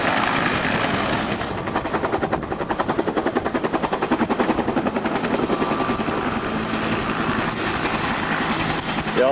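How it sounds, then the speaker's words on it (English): An old military helicopter flies in over a 1998 Bougainville base. Its rotor makes a loud, steady, rhythmic chopping close by, with engine whine throughout and no talk. "The old chopper coming in."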